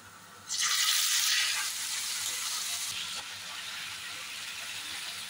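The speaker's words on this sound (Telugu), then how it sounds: "ఈ విధంగా నానబెట్టుకున్న చికెన్ని 4 స్పూన్లు ఆయిల్ వేసి అందులో వేయించుకోవాలి." Marinated chicken hits hot oil in a pan and sizzles loudly at once, a close, bright hiss that settles into a steady, slightly softer frying crackle with no talk.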